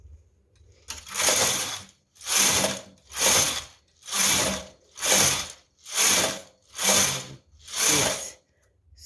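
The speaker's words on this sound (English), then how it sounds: "I'm going to continue to be knitting 8 rows as I'm alternating the needles into E position" Knitting machine carriage passed back and forth across the needle bed, knitting rows with needles alternated into E position: eight loud, evenly spaced mechanical clacking sweeps, each lasting about a second with short pauses between, and no talk.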